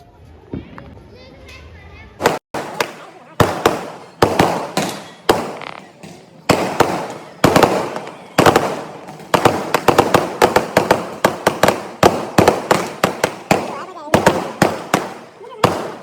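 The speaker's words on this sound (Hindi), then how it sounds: "यहाँ फ्री के पटाखों का आनंद ले लिया हमने।" Firecrackers burst in rapid, loud cracks during Karva Chauth celebrations, at first spaced out and then in a dense crackling string, with faint voices underneath at the start.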